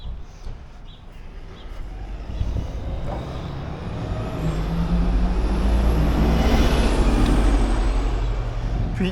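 Traffic passes along a quiet town street in the morning, a broad roaring wash that swells steadily louder toward the end as a heavy vehicle draws near, with no talk.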